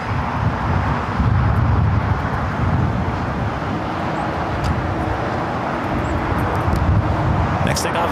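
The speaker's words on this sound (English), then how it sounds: "777 taking off on the north side" A Boeing 777 taking off from the north side of LAX, a broad, steady jet engine roar heard from a distance mixed with wind, under ongoing talk.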